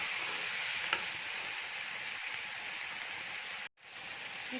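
Cabbage and beef curry sizzles steadily as it is stirred in a kadhai, a continuous frying hiss with faint scraping, then a brief cut near the end before the sizzle resumes.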